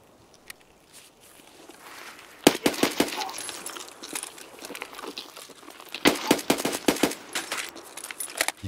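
Gunfire in Escape From Tarkov, with a few faint isolated pops followed by two loud clusters of rapid automatic shots, separated by scattered quieter cracks and movement.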